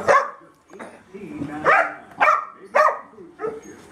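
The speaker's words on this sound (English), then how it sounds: "just the barking" A dog barks in a series of sharp, close barks, about five in an irregular rhythm, with softer whimpering sounds between them.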